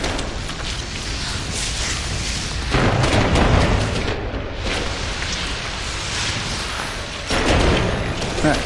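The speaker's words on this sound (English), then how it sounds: "letting off the fireworks." Fireworks set off in the No Man's Sky video game, a sustained run of loud booming bursts and crackles with two stronger surges of blasts, continuous and dense throughout.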